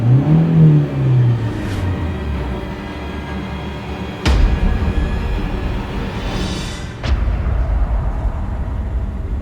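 A car engine revs and surges, with a couple of sharp bangs or thuds over the rumbling motor, fairly loud and close.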